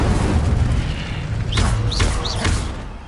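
An Incendio fire spell cast in Hogwarts Legacy sounds as a deep, rumbling burst of flame, loud and close, with a few brief whooshing flares on top before it trails off.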